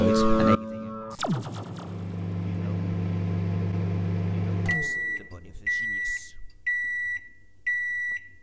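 A video game microwave oven hums steadily after a loud start, then falls quiet and gives a series of short, sharp, repeated beeps.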